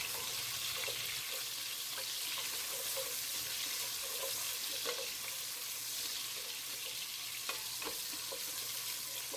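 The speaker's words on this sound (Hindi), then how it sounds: "और इसको मैंने ये चमचा चलाना शुरू कर दिया है" Whole spices and cumin frying in oil in a pan as a spoon stirs them, a steady hiss of sizzling with faint scraping clinks scattered throughout, close and continuous, no voices.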